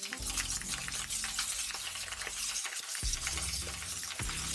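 Shallots, garlic, fresh thyme and butter hit a hot pan beside a NY striploin steak, giving a steady crackling sizzle with a couple of sharp drops in the low rumble as the ingredients go in.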